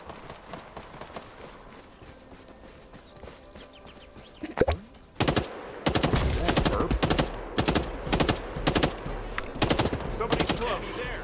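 Gunfire in a shooter video game, quiet game ambience at first, then bursts of rapid automatic shots from about five seconds on, loud and repeating in clusters.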